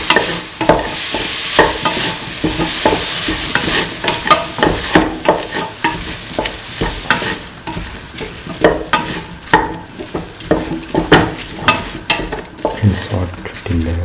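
A potato and soy chunk mixture with onion stirred in a hot frying pan: continuous sizzling under repeated close scraping and clattering strokes of a spoon against the pan, with no talking.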